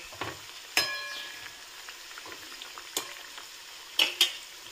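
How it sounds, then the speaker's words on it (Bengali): Coconut cookies deep-fry in oil that crackles softly in the background while metal utensils clink and ring sharply a few times, scattered across the clip. "তেলে এগুলোকে আমি ভেজে নিচ্ছি।"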